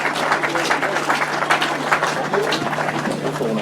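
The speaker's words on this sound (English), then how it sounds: "Let's give a big round of applause for 1, 2, 3, and the 500 solo" Crowd applause at a grasstrack motorcycle race meeting after the 500cc solo riders are introduced, steady broadband clapping with a faint voice over the top.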